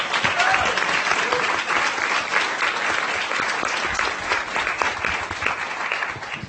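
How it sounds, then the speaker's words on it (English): An audience bursts into applause, a dense, sustained patter of many hands clapping that stays strong and slowly thins toward the end, with faint voices mixed in. "Please give him a round of applause."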